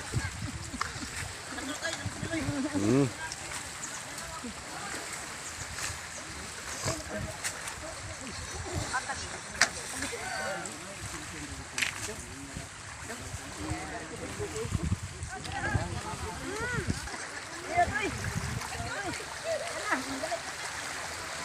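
Sea water splashes and sloshes as someone bathes in the sea, a busy, continuous wash of water with small surges, heard close with speech mixed in.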